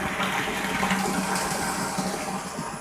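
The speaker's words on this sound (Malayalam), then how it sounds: "ടാപ്പ് തുറന്നിട്ടുണ്ട്" Water runs steadily from an open tap during the cleaning of a home water tank, a continuous gushing rush at moderate level with no pause and no voices.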